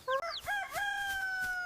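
A cartoon rooster crows a single drawn-out cock-a-doodle-doo in a children's farm animal song, loud and close with no talk.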